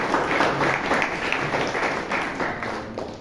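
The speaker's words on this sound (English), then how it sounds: "can we have a round of applause for them?" A Toastmasters meeting audience in Bangalore gives a round of applause for members who used the word of the day, a short burst of steady, moderately loud clapping.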